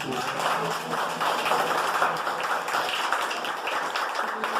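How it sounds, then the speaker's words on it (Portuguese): A church congregation applauds during a sermon, a moderately loud, uneven patter of many hands clapping that continues steadily for several seconds. "Dá uma salva de palmas para o Senhor Jesus Cristo."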